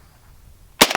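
.50 BMG rifle shot hitting a steel anvil target outdoors, one loud sharp crack near the end after quiet, followed by a brief ringing tail.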